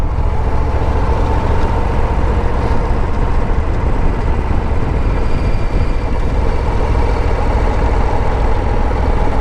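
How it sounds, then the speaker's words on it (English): A 2022 Harley-Davidson Low Rider ST with its stock M8 V-twin running, a loud, dense, low rumbling drone that holds steady and close throughout, with no talking. "Now they sound just like every other M8 stock. Maybe just a little bit throatier."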